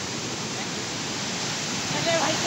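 Randha Falls roars as a dense, steady wash of falling water close by, with spray hitting the camera and no clear voices.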